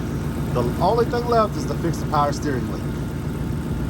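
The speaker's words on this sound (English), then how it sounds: "The car is running." A Ford Mustang engine idles steadily in the background with a low, continuous hum while someone talks over it close by.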